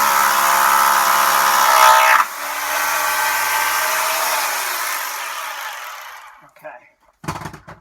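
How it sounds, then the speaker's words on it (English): A corded rotary hammer bores into concrete to fit a shelf bracket, a loud continuous buzzing roar for about six seconds with one pitch shift midway, then stopping, followed by a few short bumps and clatters. "Rotary hammers, by the way, oh man. They're not the cheapest tool in the world, but if you have to connect to concrete or stone"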